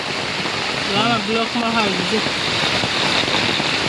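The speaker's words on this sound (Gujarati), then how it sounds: "જો ફૂલ વરસાદ છે મિત્રો" Steady heavy rainfall on a farm during monsoon, pouring continuously as a dense broadband wash; a person's voice briefly speaks over it in the middle.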